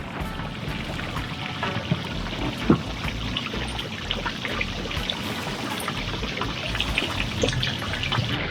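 Fresh water runs and splashes steadily through a boat's outboard motor during long-term storage prep, a continuous close trickling and pouring flow with one brief louder splash partway through.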